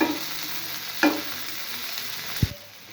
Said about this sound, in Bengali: আমি এগুলোকে মিডিয়াম আঁচে রেখে ভেজে নিচ্ছি